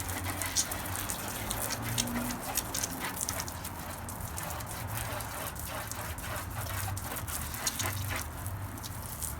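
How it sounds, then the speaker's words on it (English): Steady rain patters continuously on surfaces nearby, a soft even hiss with scattered drips and a low background rumble. "And it's raining all over."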